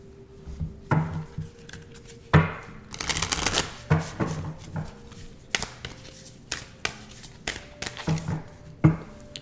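Oracle cards are shuffled by hand in a quiet room, a series of soft riffling slaps and taps repeating at an uneven rhythm, close and fairly faint, with no talk.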